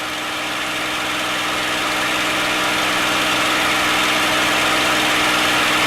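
A TF-51 Mustang's piston engine drones steadily during a climb, a loud continuous near roar with a low throbbing vibration and no speech.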